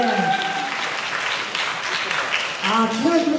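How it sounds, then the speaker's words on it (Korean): Crowd applause at YES24 Live Hall during a K-pop group's fan event, steady clapping throughout with a host's amplified voice talking over it. "소소에게 박수 한번"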